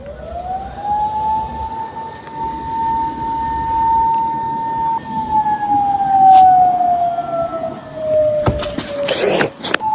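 A loud emergency siren wails in one long sustained tone that slowly falls, passing nearby outdoors, with clattering noise toward the end.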